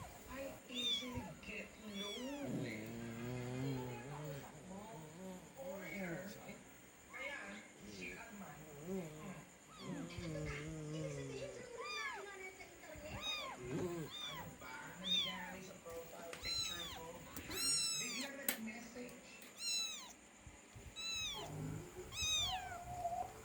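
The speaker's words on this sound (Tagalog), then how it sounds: "Ako ay naawa sa maliliit na pusa." Kittens meowing repeatedly in high, thin cries, several overlapping across the stretch, alongside some lower calls and faint background noise.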